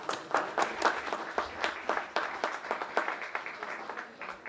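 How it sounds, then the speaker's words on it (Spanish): An audience at an outdoor summer festival concert in Peraltilla applauds to welcome a violin and guitar duo, moderately loud clapping with a loose, pulsing rhythm that gradually eases off. "un fuerte aplauso"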